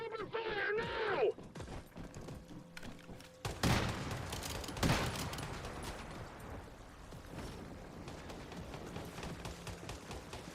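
Gunfire in the survival shooter Once Human: a volley of sharp shots with a few heavy booming hits, then a long spell of scattered firing and rumble, with speech early on.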